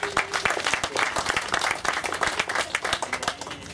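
Wedding guests break into a burst of hearty applause, dense overlapping claps from a room full of people that keeps going without a pause.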